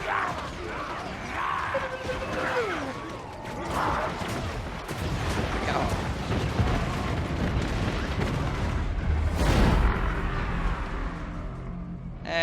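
Explosions in Total War: Warhammer II rumble and crash continuously as a dense barrage, with booms and clattering mechanical noise piled together and a heavier blast near the end.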